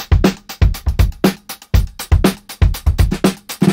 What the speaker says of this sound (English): Classic drum break sounds like this.